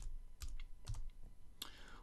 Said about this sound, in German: gibt das Passwort ein